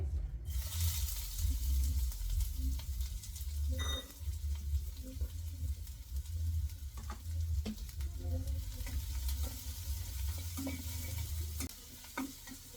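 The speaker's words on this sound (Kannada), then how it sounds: "ಇವಾಗ ಬಾಣಲಿ ಬಿಸಿ ಆಗಿದೆ. ಫಸ್ಟಿಗೆ ಈರುಳ್ಳಿ ಹಾಕಿ ಹುರ್ಕೋತೀನಿ" Onions sizzling in hot oil in a heated pan for a home-cooked meal, a steady close frying hiss with a low rumble beneath and occasional soft stirring scrapes, alone and without talk.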